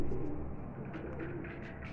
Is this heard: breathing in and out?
no